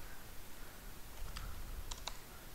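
Faint, sparse clicks from a computer keyboard being typed on, a few isolated keystrokes against a quiet background hiss.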